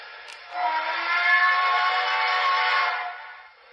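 Long steady whistle from a Broadway Limited SP GS-4 model locomotive with Paragon4 sound, a single sustained tone of about three seconds that swells, holds and then fades, with no talking.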